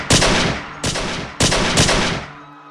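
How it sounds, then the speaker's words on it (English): Four loud gunshots fire in quick, irregular succession, each a sharp crack that trails off into a reverberant tail, with the last shot fading into quiet. "My words were interrupted by a chorus of gunshots."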